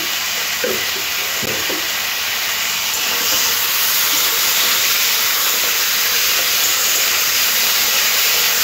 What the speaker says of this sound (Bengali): সব কিছু ভালো করে সবজির সাথে ভেজে নিতে হবে।